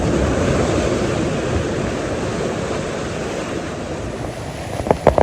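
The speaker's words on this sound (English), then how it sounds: "water's starting to splash over the wall now" Sea waves surging against a promenade wall at Walcott on the North Norfolk coast, a loud continuous roar of surf mixed with wind buffeting the microphone, with a few sharper splashes near the end.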